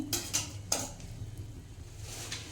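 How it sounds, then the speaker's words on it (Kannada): A plate is set over a vegetable uttapam in its pan, giving a few sharp metallic clinks and scrapes at the start, then a soft low background hum, with no talk. "ಹಾಕಿ ಇದನ್ನು ಹಿಂಗೆ ಒಂದು ಪ್ಲೇಟ್ ಮುಚ್ಚಿಟ್ಬಿಡ್ತೀನಿ."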